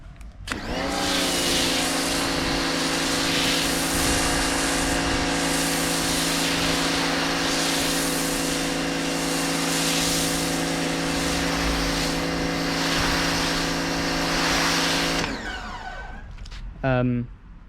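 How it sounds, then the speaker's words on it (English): A Titan 140 bar pressure washer sprays car wash foam from Armor All pods onto a car, its loud steady motor drone running unbroken for about fifteen seconds before cutting off with a brief trailing rattle. "I'm using a Titan 140 bar pressure washer, which I got from Screwfix"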